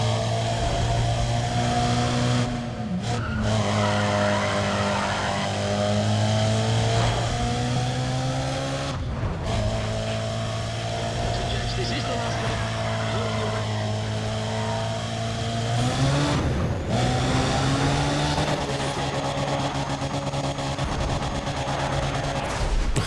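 A car engine in the Need for Speed ProStreet racing game holds a loud, sustained high-rev drone at top speed, broken by three sharp shift cuts where the pitch drops and climbs again.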